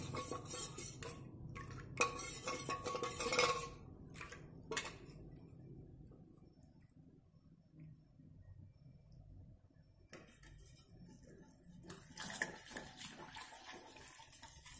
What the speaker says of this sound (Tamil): நம்ம கெட்டியாகாமல் இப்படி கைவிடாமல் கலந்து விட்டுக்கிட்டே இருக்கணும்